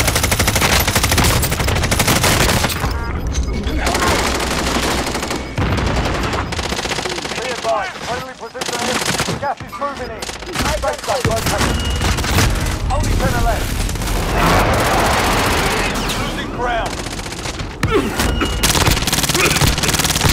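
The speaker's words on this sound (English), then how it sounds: "Receiving hostile fire" Sustained hostile gunfire in the video game Warzone on Rebirth Island: dense machine-gun bursts and rapid shots roll almost continuously alongside booms and crashes, loud and close throughout.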